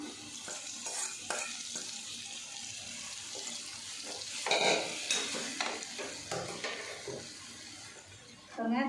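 Roasted ingredients tipped into a pan and stirred while making bitter gourd kuzhambu, with scraping spoon strokes, soft sizzling and a brief splash of water, moderately close and without speech.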